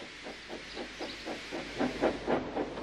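Thomas the Tank Engine, a small steam locomotive, chuffs away in a steady rhythm of hissing puffs that quicken and grow louder as it pulls off, with no voices over it.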